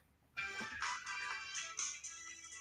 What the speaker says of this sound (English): Sorry, my wife's just ringing me.